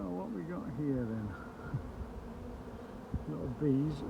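Honey bees swarm around a chimney during a removal, a close buzzing hum that rises and falls as individual bees pass near, and a person speaks softly over it.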